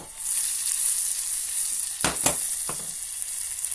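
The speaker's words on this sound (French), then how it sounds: "Là le beurre il est en train de fondre avec le chocolat. Vous remuez un peu." Butter melts with chocolate in a bowl for an easy chocolate cake, with a steady hiss throughout and a few sharp utensil knocks and scrapes near the end.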